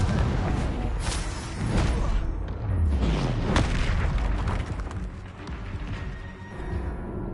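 Booming blasts from a Confringo spell cast in Hogwarts Legacy, several heavy explosions with crackling debris in a dense, continuous roar, loud and close.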